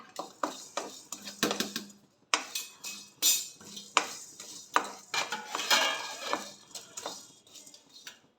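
Coriander seeds and other whole spices dry roasted in a pan without oil, giving repeated scraping, rattling and clinking of metal against the pan in irregular bursts, close and fairly quiet with no talk.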